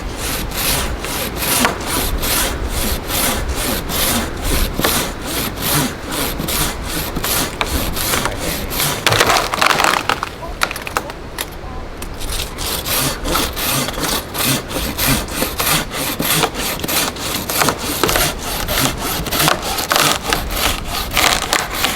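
A saw cutting back and forth through wood in a forest, rapid rhythmic rasping strokes close up and loud, with a brief pause near the middle before the steady sawing resumes.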